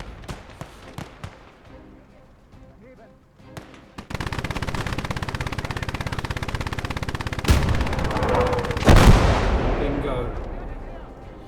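Heavy gunfire from the Gates of Hell war game: a howitzer and a quad .50-calibre machine gun fire together, a steady loud rattle of rapid shots punctuated by big booming blasts, with softer scattered shots at first.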